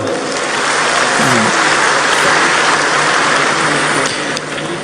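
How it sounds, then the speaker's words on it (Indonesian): Large crowd applauding at a Muhammadiyah-'Aisyiyah Muktamar tabligh akbar, a broad, steady roar of clapping filling a big venue throughout, with a faint voice briefly audible. "Tepuk tangan untuk semuanya"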